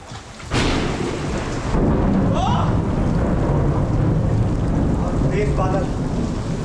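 Heavy rain pours steadily outside a cave while thunder cracks sharply and then rolls on as a loud, continuous roar, with no voices heard.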